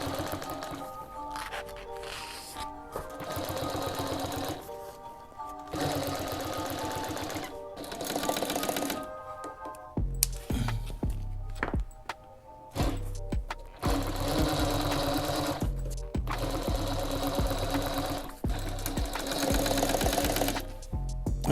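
A sewing machine runs in bursts of steady rapid stitching, pausing and restarting, while sewing a French seam on upholstery for an old-school Cutlass car seat.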